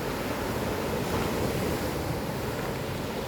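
Ocean surf breaks steadily at Nam Rin beach, a dense continuous roar of waves with some wind noise, loud and close, with no voices.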